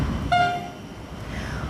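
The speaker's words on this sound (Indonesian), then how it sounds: "Lokomotif khusus berwarna merah ini merupakan penarik rangkaian gerbong kereta api yang melintas di jalur hulu di Pekalongan" A red special locomotive pulling railway carriages on the line at Pekalongan sounds a brief loud horn blast over a steady rumble of the passing train.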